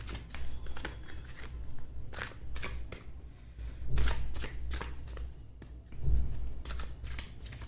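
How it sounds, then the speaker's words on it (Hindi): Tarot cards being shuffled and drawn by hand, producing soft close riffles and flicks with a few firmer slaps and a low rumble beneath, and no voice. "चलो पहले मैं कार्ड्स निकालती हूँ"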